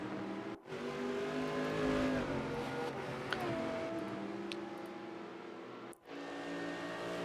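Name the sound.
Porsche GT3 race car engine in Rennsport video game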